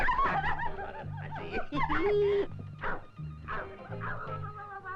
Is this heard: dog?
yes